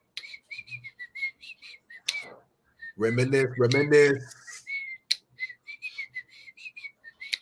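Someone whistles a melodic tune in short repeated phrases, briefly interrupted by a voice speaking before the whistling resumes.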